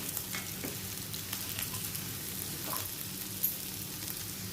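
Boiled taro (rankanda) pieces sauté in a pan over raised heat for a fasting-day vegetable dish, giving a steady low sizzle with faint scraping stirs throughout, no voices.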